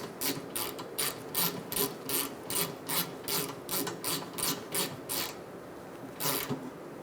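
A socket wrench tightening the A/C condenser bolts on a 2012-2017 Hyundai Accent ratchets in a brisk, even series of close clicking bursts, pausing briefly before a final couple of strokes.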